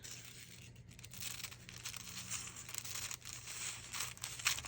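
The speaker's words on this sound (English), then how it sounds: "I'm gonna trim off the extra on this side" Excess material is trimmed off a handmade craft piece, making faint, continuous crinkling and tearing sounds close by in a quiet room.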